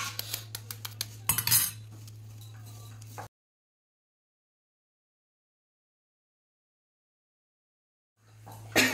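An egg for a vegetable egg paratha is cracked into a bowl and beaten, heard as a burst of quick metallic taps and clinks over a low hum, then a long silence before the clatter resumes.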